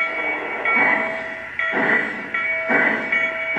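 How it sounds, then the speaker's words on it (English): Model train locomotives roll along the track with a steady mechanical hum and rhythmic clicks, swelling in repeated bursts as cars pass, close and fairly loud with no voices. "when you get them set up just right, these locos ride smooth"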